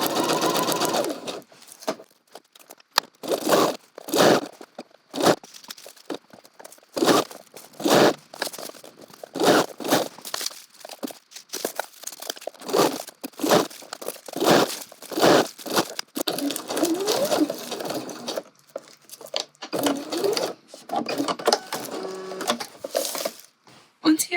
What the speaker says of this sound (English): Press your foot down and carry on stitching along the line that we've marked.